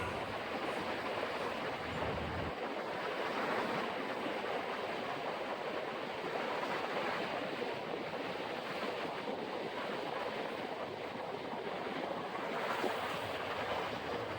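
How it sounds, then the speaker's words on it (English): Steady rushing surf roars continuously from the ocean at Scarborough North Bay, a broad wash of high breaking waves mixed with wind, with no voices. "should get some quite high waves, I think,"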